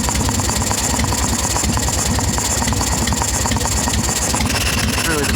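Evo Softail motorcycle V-twin with a carburetor idling up close, a steady loping mechanical chug with rhythmic pulses and valvetrain clatter running continuously throughout.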